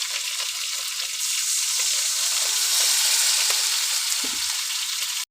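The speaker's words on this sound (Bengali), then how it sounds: "এবার অল্প পরিমাণে জল দিয়ে দেবো।" Water poured onto frying spices for a bata fish curry with bitter gourd, setting off a loud, steady hissing sizzle that holds for several seconds close by, then cuts off abruptly.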